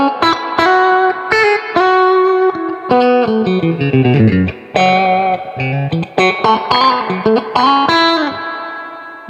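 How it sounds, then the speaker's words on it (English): Electric guitar played through a 1969 Fender Pro Reverb tube amplifier, with clean sustained notes and chords washed in lush spring reverb, loud and close, played alone with no talking. "Something about a good old-fashioned tube-driven reverb."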